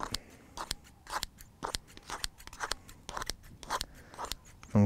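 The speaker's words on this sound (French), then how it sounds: "Moi, j'utilise un ciseau à 1 lame maintenant." Single-blade scissors snip fishing bait into pieces, a steady series of about a dozen sharp, close crunching cuts in an uneven rhythm, with no talking.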